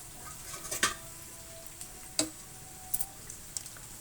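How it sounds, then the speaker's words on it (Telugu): Fish frying in oil for a tamarind fish curry, a soft steady sizzle with a few sharp clicks and taps from stirring or utensils scattered across the clip. "ఫిష్ చక్కగా వేగుతుంది"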